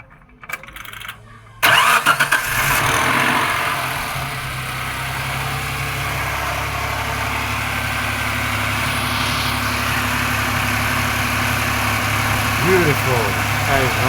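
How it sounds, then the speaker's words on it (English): A 1995 Suzuki Escudo engine cranks briefly and catches, then settles into a steady, even idle with no misfires, heard close and continuous for the rest of the stretch. "Car is running very well. No misfires."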